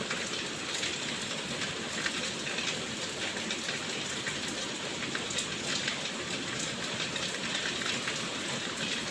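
Steady first rain of the year in Ayutthaya patters on surfaces, a dense continuous hiss with scattered nearby drips, no talking.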